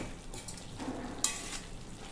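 Chicken pieces tossed with coriander powder in a pan, a soft sizzle under faint stirring scrapes and one small clink, close and low.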